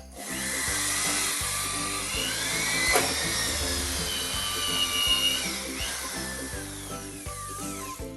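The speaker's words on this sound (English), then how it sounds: "insert the bit into this hole right here, and then you just start drilling" A power drill fitted with a dust cap bores through drywall, a steady whining motor with pulsing, grinding bursts as the bit cuts, close and loud.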